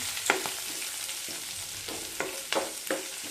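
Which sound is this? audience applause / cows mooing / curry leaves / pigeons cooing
curry leaves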